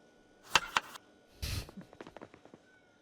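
A pet cat gives a couple of short, quiet meows close by, followed by soft taps and light clatter.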